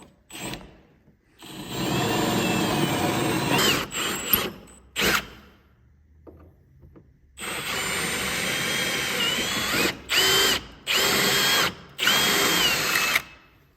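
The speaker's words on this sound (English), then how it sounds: "we're going to drill these 2 holes out using a 21/64 drill bit" A power drill with a 21/64 bit whines through plastic in several bursts, two long runs and a few short ones, with pauses of near silence between them; close and loud.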